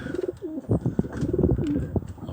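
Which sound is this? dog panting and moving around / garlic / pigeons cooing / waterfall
pigeons cooing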